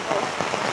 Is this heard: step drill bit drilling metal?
no